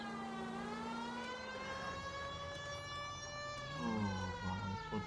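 Police car siren in the video game L.A. Noire, a steady wailing tone sliding slowly in pitch, loud and close over a low engine rumble, with no talk.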